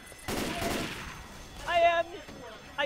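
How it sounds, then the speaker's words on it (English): A grenade launcher fires in Left 4 Dead 2, a loud blast burst at the start followed by a fading tail, then weapon handling clicks and a short tonal game effect, with voices talking faintly over the action. "I shot everyone with a grenade."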